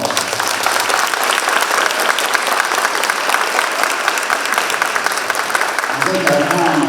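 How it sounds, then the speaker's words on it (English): An audience at an elementary school dedication applauds in a dense, steady wash of clapping that holds at even loudness from start to finish. "let's give them another round of applause"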